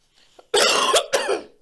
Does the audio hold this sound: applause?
no